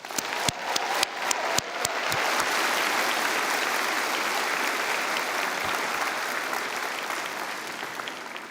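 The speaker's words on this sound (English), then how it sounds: "One more round of applause." Graduation convocation audience applauding: a few sharp early claps swell within two seconds into sustained, dense clapping from a large crowd that holds steady to the end.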